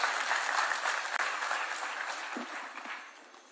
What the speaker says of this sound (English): Let's welcome him with a clap, please